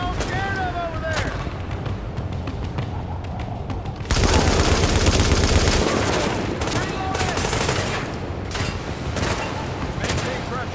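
Gunfire in the video game Tom Clancy's The Division, sustained rapid automatic bursts and heavy shots layered together, loud and close, intensifying midway, with voices calling out over the battle.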